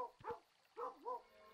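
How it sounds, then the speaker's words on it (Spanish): A dog in the video game Kingdom New Lands barks twice in quick succession, short yipping bow-wows that sound near and clear over a quiet background. "Se está ladrando el perro"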